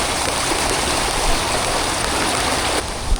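A river and waterfall roar in a steady, loud wash of rushing water close by, broadband and unbroken, with a brief thump near the end.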